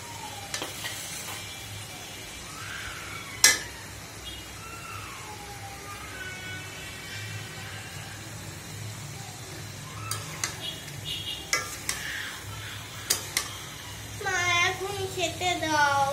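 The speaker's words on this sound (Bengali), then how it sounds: "আমি পাবদা মাছগুলি এখন ছেড়ে দিচ্ছি।" Pabda fish sizzle and fry steadily in a pan, a continuous close hiss with occasional sharp clinks of utensils, while voices speak over it and a distant siren-like wail rises near the end.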